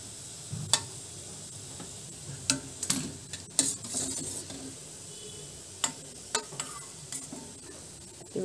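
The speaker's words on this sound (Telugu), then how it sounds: "మిగతా కూడా ఇలానే ఆయిల్లో డీప్ ఫ్రై చేసుకుందాము" Instant ready-mix gulab jamun balls deep-frying in oil, giving a steady low sizzle broken by sharp clicks and taps from a utensil against the pan. The sounds are close and no one speaks.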